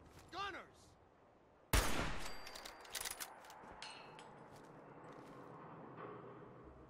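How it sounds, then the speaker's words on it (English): Sniper rifle gunfire in the video game Fallout 4: one sharp, loud shot cracks out after a moment of quiet. A few fainter clattering impacts and echoes follow. "What is that sniper rifle?"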